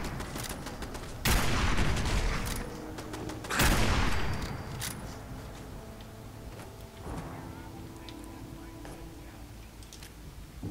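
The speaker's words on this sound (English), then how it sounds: "Machine gun there." Machine gun fire in the Fallout 4 Far Harbor game, two loud bursts of rapid gunfire a couple of seconds apart followed by a fainter shot, with quieter game ambience between.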